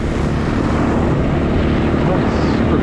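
A four-wheeler ATV drives through cold snow slush, giving a loud, steady engine drone up close with heavy wind buffeting throughout.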